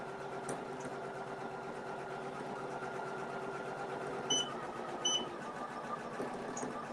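An embroidery machine stitching a cat patch over thick, dense stitches, running with a steady rapid mechanical whir and a few brief higher clicks and taps as the needle pushes through the buildup.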